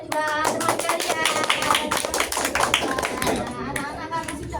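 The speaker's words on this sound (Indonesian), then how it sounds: "Beri tepuk tangan kepada dua teman kalian." Students in a classroom clap for two classmates, a brief burst of claps mixed with voices and chatter throughout the roughly four and a half seconds.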